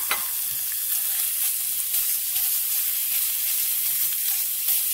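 Pork sizzling and crackling steadily in a hot pan during a stir-fry, a loud, continuous bright hiss that starts with a sharp burst as the meat hits the oil.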